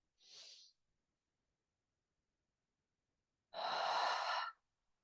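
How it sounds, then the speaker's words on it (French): Two deep breaths let out through the mouth as sighs, a short soft exhale followed after a pause by a longer, louder, breathy one, close and alone in a quiet room. "prendre 3 respirations profondes en inspirant par le nez et en soufflant par la bouche dans un soupir"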